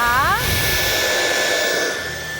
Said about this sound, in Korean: 전원 버튼 누르고요. 카페트 청소 갑니다.